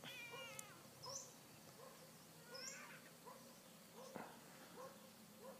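A cat meows repeatedly in the early morning outdoors at a resort, several short rising calls spaced a second or so apart, moderately close over a quiet hiss of background air.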